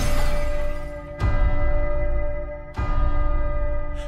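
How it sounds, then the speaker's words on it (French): A haunted clock hidden in the walls strikes deep, ringing gongs, loud and close, each blow sustaining a long, slowly fading resonant tone before the next one lands. "Trois coups de gong."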